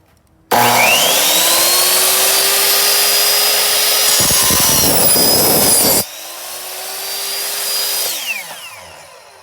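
A power saw spins up and bites through Trex stair railing, a loud sustained whining cut that drops off and briefly stutters, then the blade runs on more quietly and winds down, with no voices.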